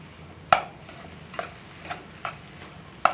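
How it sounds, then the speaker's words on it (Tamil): Potato pea masala stirred in a pan: a spoon knocks and scrapes against the metal in a regular rhythm of about six distinct strokes over a soft, low sizzle. "இந்த மாதிரி தாங்க நல்லா கலந்து விட்டுட்டிங்கன்னா இந்த மசாலா, உப்பு எல்லாமே உருளைக்கிழங்குலையும் நல்லா சாந்துடும்"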